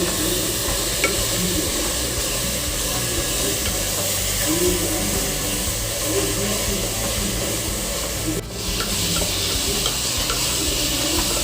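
Onions and tomatoes sauté in a pan for a jackfruit biryani, giving a steady close sizzle and hiss with continuous stirring and scraping throughout, with no talk.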